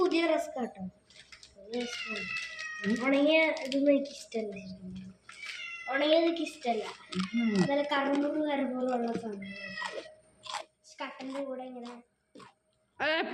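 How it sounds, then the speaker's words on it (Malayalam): A cat meows repeatedly and insistently, close by, with drawn-out cries throughout while a person speaks at times. "പൂച്ച പൂച്ച"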